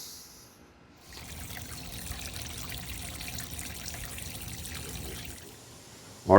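A water heater in an attic drains slowly through a hose, slowed by sediment, giving a steady soft trickle of flowing water that runs for several seconds at moderate distance before a brief louder knock at the end.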